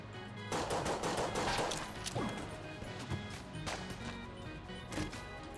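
Rapid gunfire and bullet impacts from the roguelike shooter game Enter the Gungeon, a dense, continuous barrage of loud shots and crashes with a few brief sharp accents layered over it.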